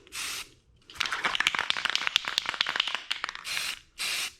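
Short bursts of aerosol spray paint hiss at the start and end while painting a farmhouse sign, with a busier stretch of rattling, tapping handling noise in between.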